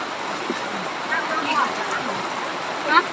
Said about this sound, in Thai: ฝนก็ตกครับโอ้นึกว่าจะหยุดแล้วยังมาอีกอยู่นี่